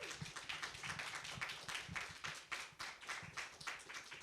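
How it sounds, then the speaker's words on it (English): An audience at a talk on the future of consent claps for the speaker, Manon Garcia: soft, quick, scattered clapping that stays faint and somewhat distant throughout. "Can we have a round of applause for Manon,"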